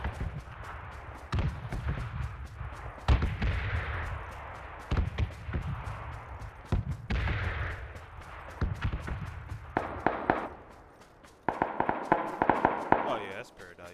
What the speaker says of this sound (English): Shots northwest.